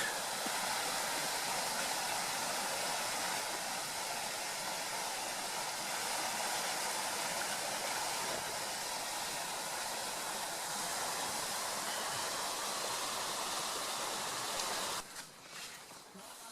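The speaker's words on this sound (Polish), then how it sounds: "Spoko strumyczek." A small mountain stream in snow-covered forest in the Jizera Mountains flows with a steady broadband rush of water, continuous and fairly close, ending with a brief muffled handling noise.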